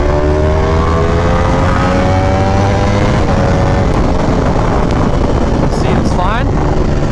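A Ducati V4R motorcycle engine with an idling fault runs loud and close, a dense continuous roar that climbs in pitch through several revs toward the end.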